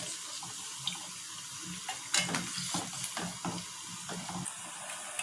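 Masala vadai fry in hot oil on a stove, giving a steady close sizzle with scattered crackles and pops and no voices.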